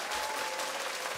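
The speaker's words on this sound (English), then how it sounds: "We'll give you a clap." Quiet, steady clapping from a small studio group on a podcast show greeting a guest, a soft continuous patter at low level.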